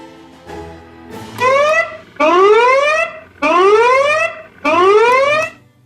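A homemade electronic zombie alarm repeats four rising, buzzy sweeps in a steady pulsing pattern, loud and close, with short gaps between each blast.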